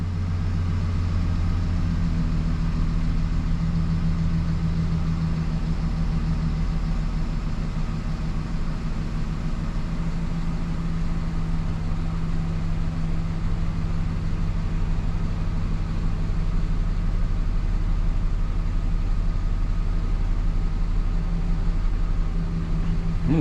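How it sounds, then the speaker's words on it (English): Chevrolet Silverado truck engine idling steadily, a constant low rumble that continues unbroken for the whole stretch with no talk over it. "I'm gonna let it sit here and idle for a little bit"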